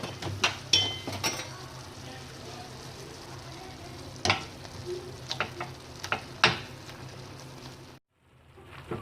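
Softened tomatoes being mashed in a pan for pizza sauce, a steady sizzle with scattered sharp scrapes and taps of a utensil against the pan, ending in a brief pause.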